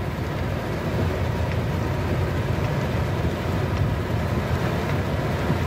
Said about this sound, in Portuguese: Muita água, muita força.